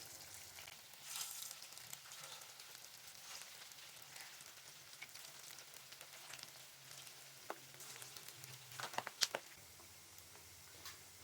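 Homemade chicken gola kebabs frying one by one in hot oil, giving a faint, steady sizzle with scattered small pops and crackles and no talking.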